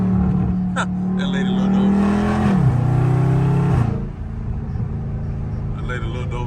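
Catless Dodge Charger Scat Pack exhaust revs loud and close in traffic, a steady low drone that drops in pitch midway and then fades into road noise, with people talking over it.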